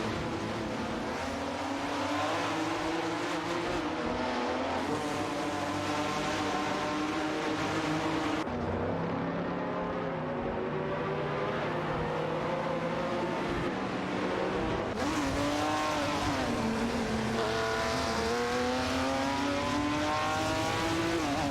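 Race cars in an AI racing video game, among them a Ferrari 250 GTO and a 1969 Dodge Charger Hemi, roar continuously as engines rev and shift through gears in a dense, close pack for the whole stretch.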